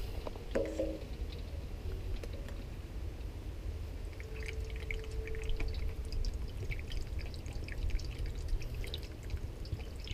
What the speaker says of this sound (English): Let's pour the rest of the bottle in.